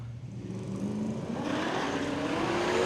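Drag racing cars at a road trip drag challenge launch and rev, a steady loud engine roar building with rising pitch as they pull away, with no talk over it.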